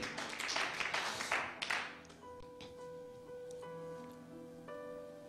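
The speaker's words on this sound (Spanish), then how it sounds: "Den un aplauso al Señor para que no se me vayan a dormir" Church congregation applauding the Lord, a loud burst of crowd clapping for about two seconds that dies away into quiet room sound with a sustained musical tone.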